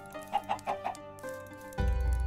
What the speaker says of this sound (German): Was so ein bisschen unlogisch ist, dass da gleich ein Huhn rausploppt.